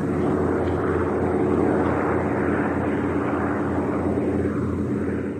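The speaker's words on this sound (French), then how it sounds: "des avions anglais ont survolé la gare et ont bombardé" First World War British airplanes passing over a railway station at Lille, a loud, steady propeller-engine drone with a low throbbing hum that holds constant throughout, slightly easing near the end, with no voices.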